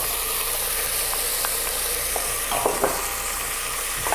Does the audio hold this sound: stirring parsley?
yes